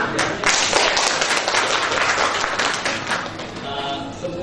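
Audience applause at an Indonesian campaign gathering, a dense sustained patter of many hands clapping for several seconds, fairly loud and steady.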